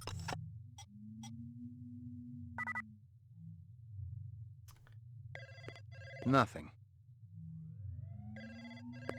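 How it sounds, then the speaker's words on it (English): An electronic telephone ringing in the 1997 Blade Runner video game, with repeated short trilling bursts over a low droning game ambience, plus a brief spoken word and other scattered game sounds. "I should answer my phone."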